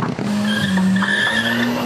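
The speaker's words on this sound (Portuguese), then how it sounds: "Os motores roncam no trânsito da maior cidade do país." Car tires squeal in sustained skids while engines roar in night traffic in Brazil's largest city, loud and close, continuous for the whole stretch with no speech.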